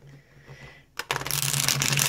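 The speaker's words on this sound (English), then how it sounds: "I'm going to go ahead and do my riffle shuffle here for you." A deck of tarot cards is riffle shuffled: a couple of soft card handling sounds, then a loud, dense burst of rapid flicking as the cards interleave for about a second, close and alone.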